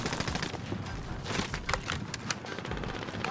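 Heavy overlapping gunfire in Call of Duty Warzone, a dense, continuous clatter of shots and impacts from several weapons with louder cracks scattered throughout.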